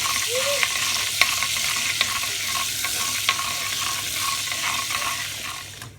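Steady sizzling of butter and oil melting in a pan for tomato soup, with occasional light clicks of a utensil stirring, continuous and close.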